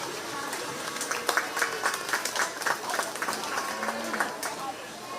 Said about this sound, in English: We're giving them a round of applause today.